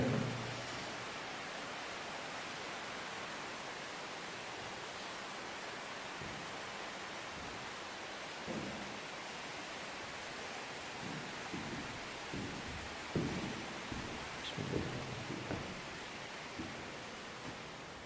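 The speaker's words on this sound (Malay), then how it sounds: "Tengok, hujan." Steady, heavy rain hisses continuously outside an abandoned stone house, with scattered faint thumps and knocks underneath.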